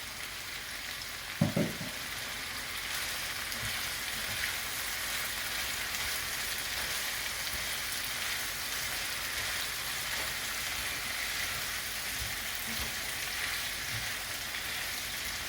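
Cabbage, chicken and tomatoes fry in a pan with a continuous, even sizzle that holds steady throughout, broken by a single utensil knock near the start.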